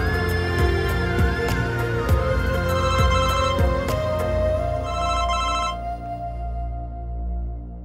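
A telephone rings in repeated electronic bursts, loud and close, over a steady musical background; the ringing stops near the end while the music continues.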